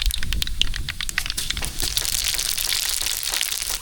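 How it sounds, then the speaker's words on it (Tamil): Mustard seeds sputter and crackle in hot oil as a tempering for white sambar is made, a dense close popping hiss that stays steady throughout with no voices over it. "இப்போ கடுகு சேர்த்துக்கலாம் கடுகு நல்லா பொருந்திடுச்சு"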